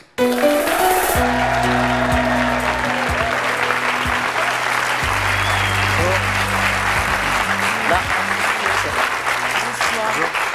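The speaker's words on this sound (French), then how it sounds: "Je vous demande d'applaudir très fort Patricia et Steven." A studio audience applauds loudly and steadily to welcome two guests onto a French television show, with steady music tones running underneath throughout.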